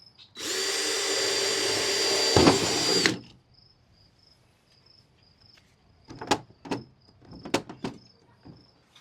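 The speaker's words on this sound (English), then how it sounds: "As I went to drill the pilot holes" A power drill bores pilot holes into a solid box while mounting hardware for a KoolSpot outdoor sun shade from Costco. It makes one loud, steady whir of about two and a half seconds, followed by scattered knocks and clicks.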